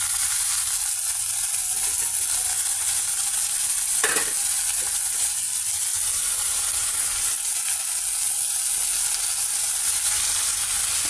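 Amaranth leaves and sliced onions fry in a pan, with a constant loud sizzle and the occasional scrape of a stirring spoon, with no voices.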